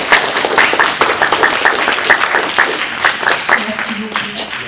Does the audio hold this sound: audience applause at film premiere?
yes